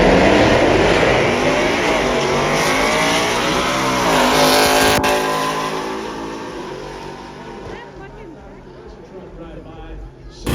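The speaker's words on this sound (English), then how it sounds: "Coyote motor in the Ford pickup truck. Hemi here in the Challenger." At a legal drag strip in Los Angeles, a Coyote V8 Ford F-Series pickup and a Hemi Dodge Challenger roar loudly close by, engines rising in pitch together before fading into the distance, with voices talking over them.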